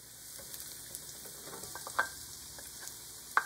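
Green beans frying in a pan with ginger and garlic, a faint, soft sizzle with a few light clinks of stirring utensils.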